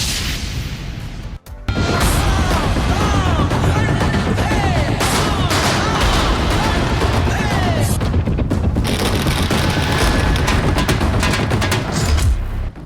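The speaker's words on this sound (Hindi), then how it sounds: "महाराष्ट्र की सड़कों पर पटाखे फूट रहे हैं" Firecrackers burst on a street in Maharashtra during a procession: a dense, loud, nonstop crackle of rapid pops and bangs follows a short lull, with shouting and street noise mixed underneath.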